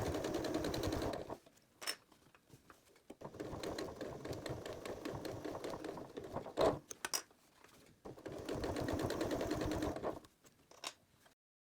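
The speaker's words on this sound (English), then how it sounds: "I sew from this side about 1/8 of an inch inside from this folded edge" A sewing machine stitches bias tape onto a fabric pot holder with a rapid, steady mechanical chatter in three long runs split by short pauses. It is close but fairly quiet, with no talk.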